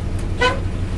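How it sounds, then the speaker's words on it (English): One short blast from the horn of a 1965 Plymouth Fury III sounds close by, a brief toot over a low idling engine rumble. "Horn."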